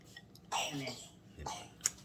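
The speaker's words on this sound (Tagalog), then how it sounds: "Ubo." A soft cough followed by another brief cough, faint and close, with quiet room noise around.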